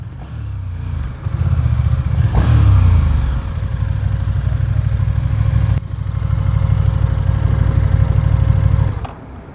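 A 2021 KTM Superduke R motorcycle engine runs steadily and loudly at close range, with a deep rumbling idle, a brief rev swell early on and a cut-off near the end.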